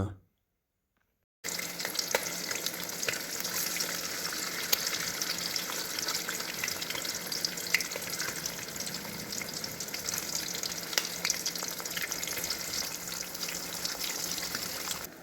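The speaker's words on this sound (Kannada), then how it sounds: "ಎಲ್ಲ ಮೊಟ್ಟೆ ಹಾಕೊಂಡು ಫ್ರೈ ಮಾಡ್ಕೊಳ್ಳೋಣ." Eggs fry in hot oil in a pan, giving a steady, dense sizzle that runs loud and even after a short silent gap at the start, with a few faint clinks over it.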